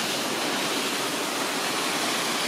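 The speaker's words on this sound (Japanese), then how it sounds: "続いてはトンネルを抜けてすぐそこ、三段の滝です。" Sandan Falls, a three-tiered waterfall beside a road tunnel in Shiretoko, Hokkaido, roars as a steady, dense wash of falling water, loud and unbroken with no voices.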